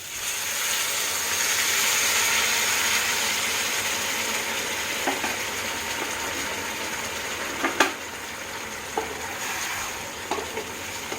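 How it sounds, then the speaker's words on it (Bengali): Pointed gourd and potato sautéing with spices in a pan give a steady, close sizzle, with a few sharp scrapes and clinks from stirring near the end. No one speaks. "মশলাটার সাথে কাঁকরোল আর আলুটাকে একটু কষিয়ে নেব"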